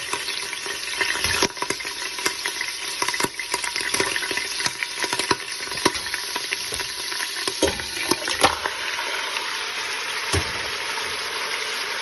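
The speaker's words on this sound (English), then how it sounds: "so we're gonna sear the ox." Oxtail searing in a hot pot, a loud continuous sizzle close up with frequent sharp crackles and pops throughout, no voices.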